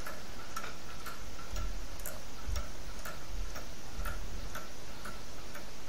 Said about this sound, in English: I'd like to show you a clock that I've printed with my 3D printer.